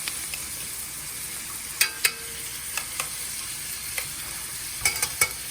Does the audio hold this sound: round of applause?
no